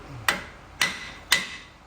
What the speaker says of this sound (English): you need to smack the knuckle right here with a mini sledge